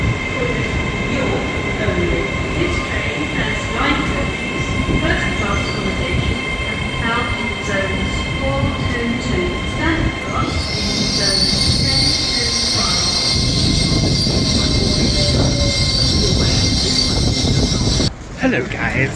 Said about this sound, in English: This train has 9 coaches, first class accommodation